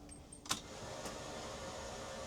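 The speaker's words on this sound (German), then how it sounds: "Jetzt starten wir den Motor erneut und gucken mal" A car engine is restarted after an alternator job: a soft electronic beep and click lead into a brief cranking burst, then the engine settles into a quiet, steady idle.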